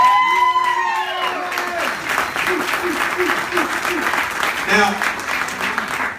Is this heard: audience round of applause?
yes